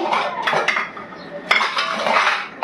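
Metal lid set down onto a cooking pot of mutton curry, a few bright clinks and clatters of metal against metal, close and alone.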